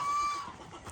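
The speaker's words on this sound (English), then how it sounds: "I already have my little tiny rooster" A small rooster on a farm gives a brief cluck, a short, fairly close call lasting under a second, with no talking.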